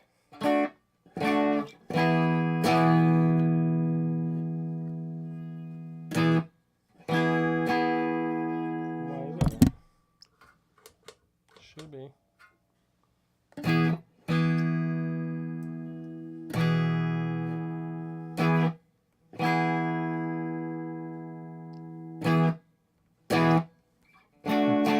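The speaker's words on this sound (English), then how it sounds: "Now we're gonna give it a little spring reverb." An electric guitar plays through a spring reverb pedal set to 12 o'clock, with sustained chords and plucked notes ringing out between pauses, alongside a brief spoken remark.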